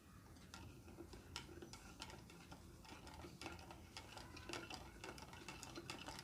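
Spoon stirring homemade lemonade with lemon juice in a glass: a steady stream of quick, light clinks and taps against the glass, continuous and fairly faint throughout.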